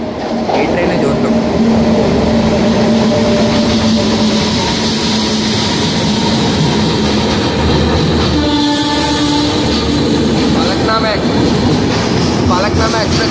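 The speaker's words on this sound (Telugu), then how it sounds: "ఫలక్నామా ఎక్స్ప్రెస్ అయితే ఇప్పుడే దువ్వాడ స్టేషన్ అయితే రీచ్ చేసేస్తుంది" The Falaknuma Express runs loud and close through Duvvada station, with a continuous rumble of wheels, clattering rail joints and a horn blast partway through, while a voice talks over it.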